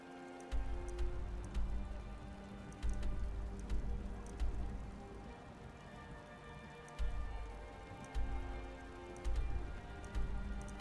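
Horse hooves clip-clop in Skyrim with the Beyond Skyrim Bruma mod, a steady loping rhythm of soft thuds repeating close by over a low ambient bed, with no talking.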